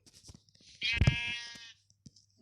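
A single drawn-out sheep bleat in a video game, loud and close, lasting about a second, with faint clicks and small sounds before and after.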